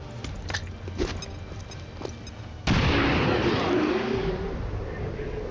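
A frag grenade goes off in the video game XCOM 2: after a quieter stretch of low rumble and small knocks, a sudden loud broadband blast hits and keeps roaring with crackling debris to the end.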